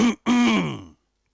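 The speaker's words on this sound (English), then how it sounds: "Let me clear my throat." Someone in a radio studio clears their throat close to the microphone. There are two quick, rough voiced bursts, the second longer, followed by silence.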